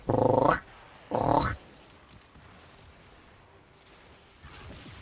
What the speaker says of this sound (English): Chihuahua barks.